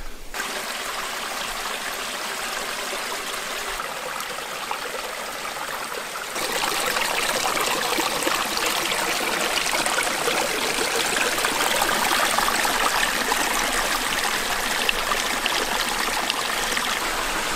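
A stream flows beneath a footbridge among sandstone cliffs, a steady close rushing and gurgling that swells louder after the first few seconds and continues without talk.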